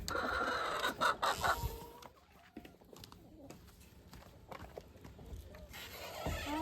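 Hens cluck and murmur in full nesting boxes inside a coop, soft, close fowl calls rising and falling irregularly over quieter stretches.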